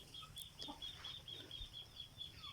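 A hen, a fighting-breed mother hen, clucks softly on a farm in the morning, with a few faint, repeated clucks and chirpy calls set against quiet outdoor ambience.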